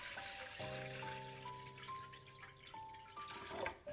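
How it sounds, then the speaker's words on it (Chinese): Clean water is poured into a cooking pot on the stove, making a faint, steady trickle whose ringing tone climbs gradually as the pot fills. "下面锅中倒入适量的清水"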